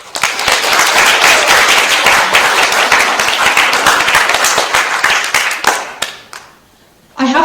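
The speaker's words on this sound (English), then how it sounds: "if you could all give a round of applause to everyone who has helped." An audience gives a round of applause at a girls' programme speech event. Loud, dense clapping with crisp individual claps runs for about six seconds, then thins to a few scattered claps and a brief quiet before resuming.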